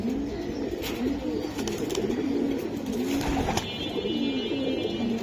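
Big boot-beaked pigeons coo in repeated, overlapping rolling calls, close and continuous, against faint background noise.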